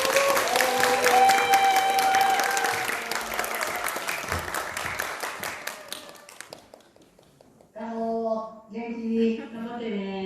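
Audience at a Korean-language speaking contest final applauds to welcome a contestant: dense, steady clapping fills the first six seconds, thins out, and then a single voice begins speaking.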